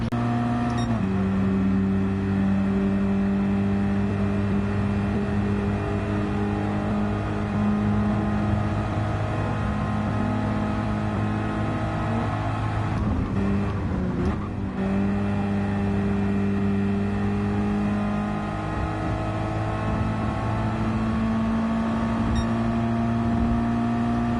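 A 2-liter Toyota Supra engine in Gran Turismo 7 drones steadily with sustained tonal whine, pitch shifting between gears as the car accelerates, with a brief rough patch midway and no talking.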